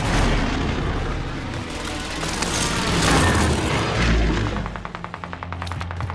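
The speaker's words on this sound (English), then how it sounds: "Allied precision airstrike incoming" Airstrike explosions in a Call of Duty match rumble as deep, heavy booms rolling over continuous gunfire, ending in a rapid stutter of automatic shots.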